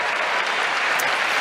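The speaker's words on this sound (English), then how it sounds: "the crowd are cheering and some on their feet for Tsitsipas here" Wimbledon 2022 tennis crowd applauding and cheering for Stefanos Tsitsipas in his match against Nick Kyrgios, a dense, steady roar of clapping from a large stadium audience, loud and continuous.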